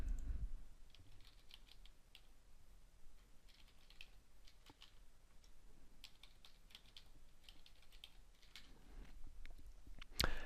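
Fingers typing a password on a computer keyboard, quiet uneven key clicks in short bursts with pauses, heard close against a faint background hum.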